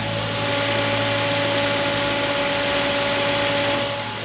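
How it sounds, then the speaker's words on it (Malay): A Toyota Vios engine idles steadily with a smooth, even hum and faint vibration, close and continuous throughout with no voices. "So ini bunyi Toyota Vios punya engine start."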